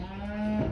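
A calf being halter trained gives one short, close moo with a steady tonal drone, loud and alone without speech.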